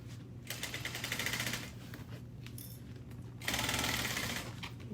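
Domestic sewing machine stitching a half-inch seam on a bag panel, running in two loud bursts of rapid needle clatter with a steady motor hum and a brief quieter pause between them.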